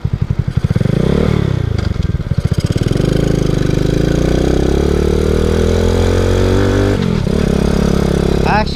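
A Boom Vader motorcycle, a Grom clone, revs loudly and then drops into false neutral while downshifting. The engine note rises and falls with a sharp change around the shift, and a continuous chugging idle and rev sound fills the whole stretch up close.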